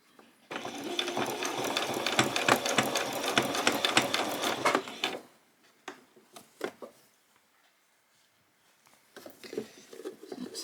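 A sewing machine stitches a ruffle onto the edge of a spring outfit's hem in a steady, close whirring run for about five seconds, then stops. Brief soft handling clicks and a short later burst of stitching follow.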